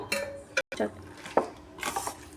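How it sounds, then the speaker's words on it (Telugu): Chicken is mixed by hand or spoon with turmeric and oil for a curry, giving soft, intermittent scrapes and clinks against a bowl, fairly quiet and close. "కొంచెం ఒక టేబుల్ స్పూన్ ఆయిల్ వేసేసుకొని బాగా మిక్స్ చేసుకోవాలండి."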